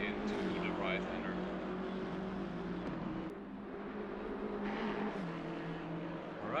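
GT3 race car engine in Assetto Corsa Competizione at Bathurst, a steady droning engine note with gear and throttle changes, heard faintly under continuous commentary.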